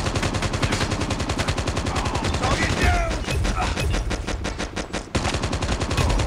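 Rapid automatic gunfire from a Call of Duty Mobile match rattles in dense continuous bursts with a brief pause, loud and close, while a player talks quietly underneath.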